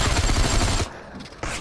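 Weapon fire in the VR battle royale Population: One, a loud, dense burst of heavy shots lasting under a second, then a brief lull before another blast starts.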